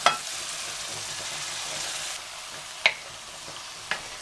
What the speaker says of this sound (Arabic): هجيب بقى السجق بتاعي هضيفه تاني للخلطه اللي انا عملتها دي يكمل تسويه يا دوب 10 دقايق